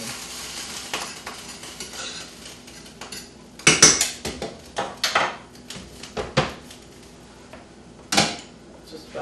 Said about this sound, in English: You always want to check your rice with a fork so that you can fluff it a little bit.